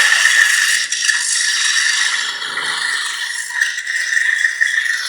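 A bright, crackling electric buzz of a Neopixel lightsaber in blade lockup holds steady for several seconds, with a sustained high hum and slight flickering fluctuations throughout.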